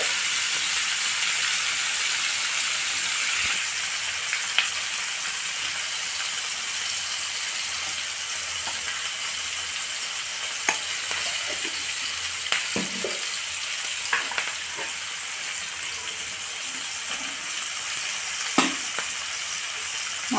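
Onions, green chilies and turmeric powder sizzle steadily in hot oil for a dhaba-style kaju paneer masala, a continuous close frying hiss broken by occasional scraping stirs of the spoon.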